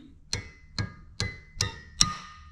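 A small hammer taps a brake actuating-unit part into place on a John Deere 430 Standard tractor, five crisp metallic strikes spaced about half a second apart, each one ringing briefly, close up, with no talking.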